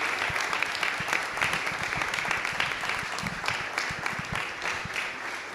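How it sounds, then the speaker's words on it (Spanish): An audience claps steadily and loudly throughout at a livestock cattle-breeding expo session in Paraguay, a dense continuous applause with no talk over it. "Así que le despedimos a Paola con un fortísimo aplauso y agradecemos."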